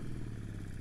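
A Yamaha scooter engine runs with a steady low, rough drone on a sandy, soil-covered mountain road between Manali and Kaza in Spiti Valley, close and continuous for a brief moment.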